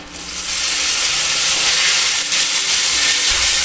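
Green chillies hit hot oil with fried garlic and set off a loud, steady sizzle that swells within the first half second and then keeps up an even, bright hiss.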